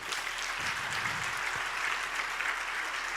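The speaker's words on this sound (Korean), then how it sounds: "여러분 뜨거운 박수로 격려하시면 감사하겠습니다" An audience at a Korean world mission conference opening worship service gives a dense, continuous burst of applause, heard from a moderate distance, steady and even throughout with no voices standing out.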